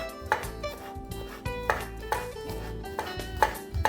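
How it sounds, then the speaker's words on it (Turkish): Quick, irregular knife taps on a cutting board as an onion is finely chopped, close and fairly quiet, with light clatter between strokes. "Soğanımı küçük küçük doğruyorum ince ince."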